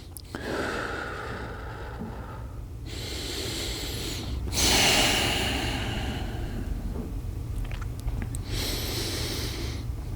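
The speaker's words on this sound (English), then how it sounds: "I almost exaggerate my breathing so that I can remind myself to stay breathing slow and full." Slow, deliberately exaggerated breaths drawn in and pushed out during a seated yoga forward-fold stretch over the leg, a few long, airy breaths heard up close with no talking.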